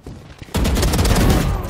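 Gunfire erupts in the tactical shooter Valorant as a headshot lands, a brief quiet moment followed by a sudden loud burst of rapid shots ringing out for over a second.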